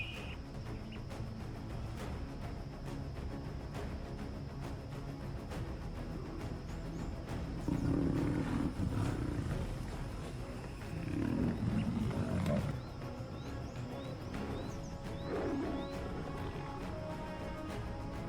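A lion in the Luangwa ecosystem gives several deep roaring bursts, low and resonant over a quiet outdoor background, with three distinct roar phrases spaced across the stretch and faint ambient insects between them.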